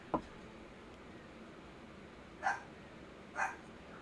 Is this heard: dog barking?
yes